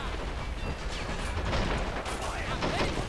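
Artillery and gunfire rumble through a battle in Men of War: Assault Squad 2, a dense, continuous din of shots and booms with scattered higher whistles, steady in loudness throughout.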